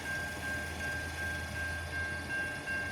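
A CN freight train nears a crossing in the Emmett, Michigan area. It gives a steady low rolling rumble at moderate distance, with a thin continuous tone above it and no talk.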